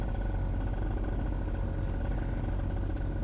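Before a flight, a paramotor engine runs hard at full throttle during its warm-up, a loud, steady, unbroken drone with a rough mechanical clatter and no talking.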